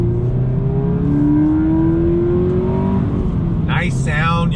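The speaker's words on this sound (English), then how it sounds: "You can hear the induction noise of the air getting sucked into that intake plenum. And then you have the nice exhaust sound" A 2020 Subaru BRZ tS engine accelerates close by, a steady rising hum of intake induction and exhaust note, loud and continuous, with a voice briefly talking near the end.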